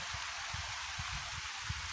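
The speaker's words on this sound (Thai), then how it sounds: "อันนี้ฝนมาอีกนะพี่น้องเนาะ" Rain falls on a rural farm during a storm as a faint, steady patter and hiss, with soft low thuds dropping at irregular intervals.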